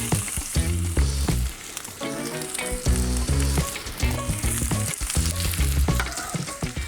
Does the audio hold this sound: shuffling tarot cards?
no